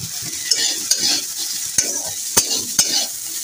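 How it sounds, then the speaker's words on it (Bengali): Carrots and yardlong beans fry in a pan, a steady hiss of sizzling broken by a few sharp scrapes of a stirring spoon against the metal, close and alone without any voices. "এবার আমি গাজর আর বরবটিটাও এর সাথে ভেজে নিচ্ছি"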